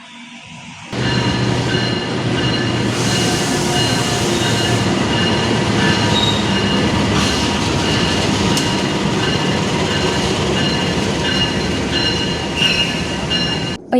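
A passenger train rumbles steadily nearby at a station in Indonesia, with wheel squeal and clattering over the rails, loud and continuous throughout with no voices.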